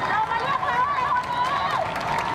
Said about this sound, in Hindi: इन लोगों ने राजशाही के खिलाफ जमकर नारेबाजी की।